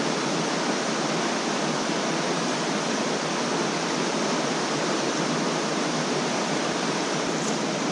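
Mountain creek water on Soco Creek in the Cherokee Reservation rushes in a steady, loud, broadband roar, close and continuous throughout with no voices.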